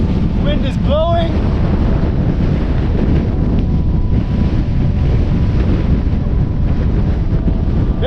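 Strong wind blowing outdoors on a dusty desert hike, a loud continuous roar buffeting the microphone throughout, with a brief whistling tone near the start.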